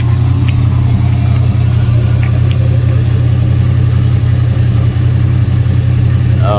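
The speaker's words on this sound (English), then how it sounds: "Wonder if you guys can hear that exhaust." A 1956 Chevy Nomad's engine idles steadily with a deep, loud exhaust burble, heard close and continuous throughout, ending with a brief rising rev.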